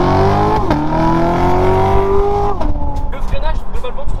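The stock 660 hp engine of a Chevrolet Corvette revs loudly from inside the car, its deep, steady drone rising in pitch, then dropping away into crackles, with people talking over it.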